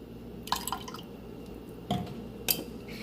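A spoonful of kewra water is added to a little milk already mixed with saffron, giving a few brief, close liquid drips and small splashes against quiet background hum.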